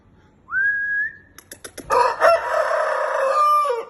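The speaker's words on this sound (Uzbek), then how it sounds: "Mana endi xo'roz bo'ldi bu jonivor" A rooster crows loudly nearby: a rising opening note, a few choppy syllables, then a long strained call held to the end.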